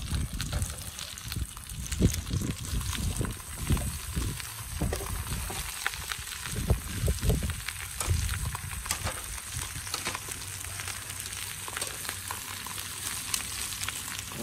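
Onion and garlic sizzle and fry loudly alongside browned beef ribs in a camp oven, a steady dense crackle with bursts of stirring and scraping early on.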